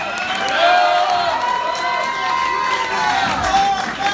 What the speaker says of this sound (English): let's give a big round of applause for all the bands that have played the evening.